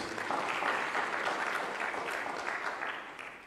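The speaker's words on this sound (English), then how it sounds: "Would you give him a clap of praise?" A church congregation gives a clap of praise, a steady wash of clapping that gradually fades toward the end.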